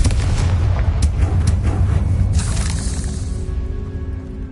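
Confringo fire spell in Hogwarts Legacy bursts with a series of sharp blasts and crackling impacts, followed by a swelling rush that fades out into quieter rumble.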